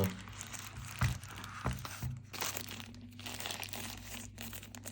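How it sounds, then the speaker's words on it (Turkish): A snap-seal plastic bag from a DJI Osmo Mobile 6 gimbal box is pulled open, giving close crinkling and a few sharp plastic snaps over a low hum. "Çıt çıtlı bir poşetim. Açıyorum onu."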